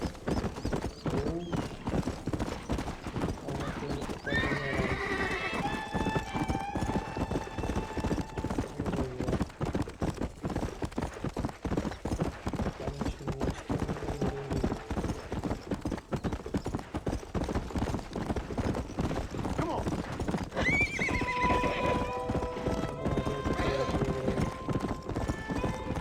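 A horse gallops in the Red Dead Redemption video game, its hooves beating a fast, steady clip-clop throughout with a couple of neighs, while someone talks over it at length.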